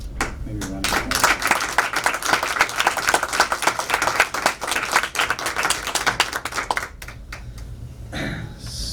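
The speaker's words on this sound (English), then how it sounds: "So maybe a round of applause." Audience applause at an indie film festival awards ceremony in Prague, steady dense clapping from a crowd lasting several seconds before tapering off, with a voice starting to speak at the end.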